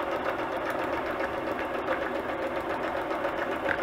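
Steady, fast whirring of a sewing machine stitching fabric pieces in a continuous run, close and moderately quiet, with no talking over it.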